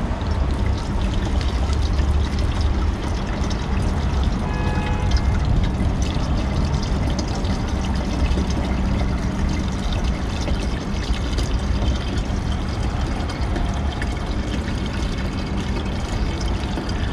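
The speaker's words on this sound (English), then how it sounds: "the wiper cleaning water, it's very low, so I'm trying to fill it up" Windshield washer fluid is poured into a car's nearly empty reservoir, making a continuous, fairly loud splashing and gurgling stream that runs steadily throughout with no talking.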